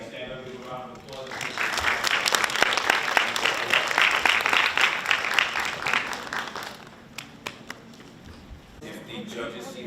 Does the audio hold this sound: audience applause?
yes